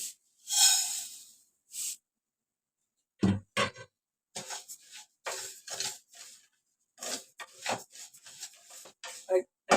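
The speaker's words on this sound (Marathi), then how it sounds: "पहिले लापशी भाजून घेते" Dry broken wheat (lapsi) roasting in a pan with no ghee or oil, being stirred: short, raspy scraping strokes come in uneven bursts separated by brief pauses, fairly close and moderately loud.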